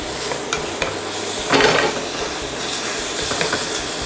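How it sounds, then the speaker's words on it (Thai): Ingredients for a curry sauce stir-fried in a pan, with a steady soft sizzle, scraping and stirring strokes, and one louder scrape midway, close and fairly loud with no talk. "ผัดจนหอมสุกๆเละๆหน่อย"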